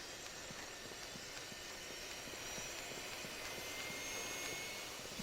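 Steady airplane engine drone from the video game Rainbow Six 3: Raven Shield on GameCube, a continuous broadband roar that holds at an even level throughout with no voices.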